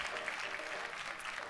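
An audience at a church service claps for Jesus, with dense, continuous applause that stays at an even level throughout, while voices murmur faintly underneath.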